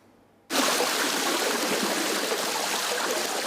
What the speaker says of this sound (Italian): Una cascata d'acqua che dalla scalinata si è riversata nel sottopasso della stazione ferroviaria di Treviso